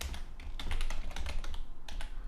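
Fast keystrokes on a computer keyboard while entering PHP code, a steady run of close clicks with a short pause near the end.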